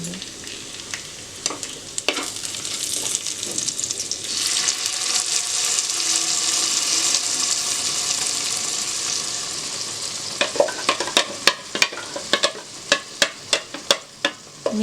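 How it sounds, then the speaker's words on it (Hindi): Masala paste for kadai paneer hitting a hot clay kadai with a loud, sustained sizzle, followed by sharp, repeated clacks of stirring near the end. "अब इसमें हम लोग जो मसाला पेस्ट करके रखा हुआ था वही मसाला हम इसमें अभी डालेंगे"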